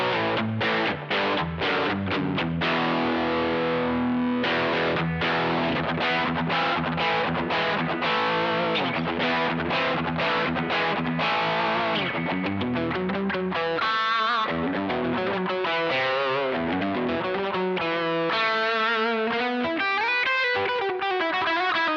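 Electric guitar crunch tone through a 1981 drive pedal and HX Stomp, a Marshall-like overdriven sound playing chords and riffs that are loud and continuous, with short choppy strums early on and sustained bending lines later.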